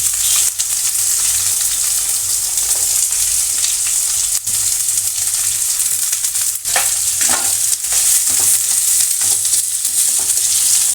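Onions fry with green chillies in a pan for puffed rice upma, giving a steady loud sizzle broken by occasional scrapes of stirring. No one speaks.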